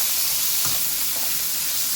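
Beef frying in a hot pan with bitter gourd gives a steady, close, hissing sizzle, with faint stirring clinks and no talking.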